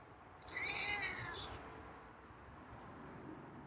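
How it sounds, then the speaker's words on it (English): A feral cat lets out a drawn-out meow up close, followed by a fainter second mew over quiet background hiss. "I got a couple meows from him"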